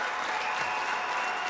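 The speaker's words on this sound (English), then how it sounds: "They're applauded as they walk across the court to the locker room" Steady applause and clapping from a gym crowd at a high school boys basketball supersectional as the Wheaton St. Francis team walks across the court to the locker room, a dense wash of claps at moderate level.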